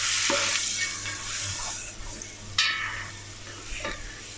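Onions sizzling and frying with spices in a pan over medium heat for a rabbit tajine, with a steady hiss broken by a few louder stirring scrapes.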